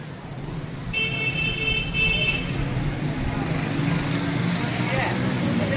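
Car horn honking on a busy street during an election survey in Lahore, a couple of short bright toots in the first half over steady traffic noise and crowd chatter.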